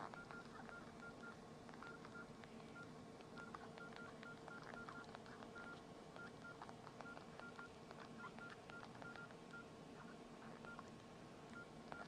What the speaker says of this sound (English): I notice that sometimes the beeps don't keep up with my typing.